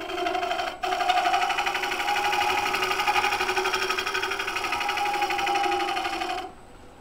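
Bowl gouge shear scraping a wood bowl on a lathe, a light smoothing cut on the top surface: a steady buzzing whir with a rapid, even tonal chatter lasting several seconds before stopping.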